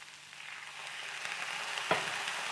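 Cabbage thoran frying in a pan with turmeric, salt and crushed coconut sizzles steadily and up close, then a brief splash and hiss as water is added near the end, no voices.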